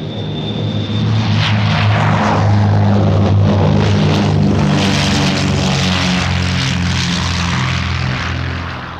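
Britten-Norman Defender and three-engine Trilander propeller aircraft taking off at the Farnborough air show, a loud steady droning propeller roar that swells and holds, then begins to fade near the end.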